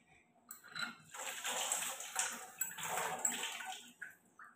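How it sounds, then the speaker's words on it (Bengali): Hands are washed under running water in a kitchen while cooking fish fingers, a soft, close splashing flow with a few brief drips and pauses, faint and without talk. "1 মিনিট হাতটা ধুয়ে নিই।"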